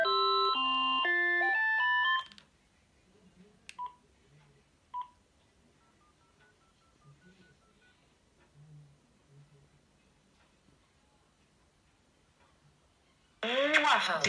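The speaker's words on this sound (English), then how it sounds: "Dave, your phone is ringing." An iPhone ringtone chimes loudly for about two seconds as a call comes in, then quiet room noise with a few faint knocks follows before the ringing starts again at the end.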